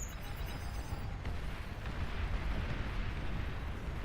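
A commander unit blows up in a massive explosion during a real-time strategy game battle, heard as a sustained, rumbling low blast that rolls on for several seconds at moderate level, with no talk over it.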